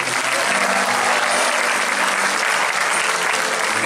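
A concert audience applauds the lead guitarist at a memorial tribute, dense steady clapping filling the whole stretch at close, loud level with no voices on top.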